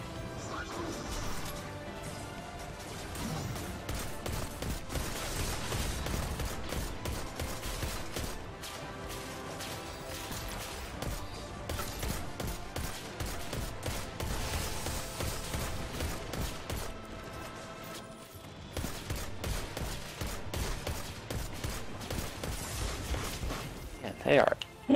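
Constant barrage of cannon and gunfire in a frantic shooter video game, dense overlapping blasts and crashes rolling on without pause, with a player talking over the din.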